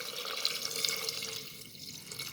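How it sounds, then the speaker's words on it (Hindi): Water pours into a pot of chicken nihari, a steady close splashing hiss that tapers off slightly toward the end. "अब इसमें हम पानी ऐड कर देंगे ताकि चिकन हमारा अच्छा सा गल जाए।"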